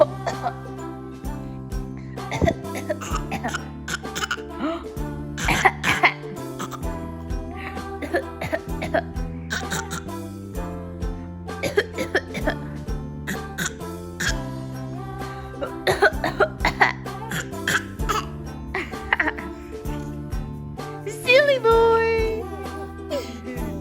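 An 8.5-month-old baby imitates his mother's cough indoors, producing short, repeated coughs and throaty hiccup-like bursts in irregular clusters, with adults talking between them.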